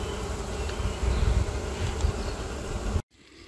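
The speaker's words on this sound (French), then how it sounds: "c'est les abeilles qui battent le rappel" Honeybees buzzing and fanning their wings at an opened hive make a dense, continuous, close drone that swells slightly midway before cutting off abruptly near the end.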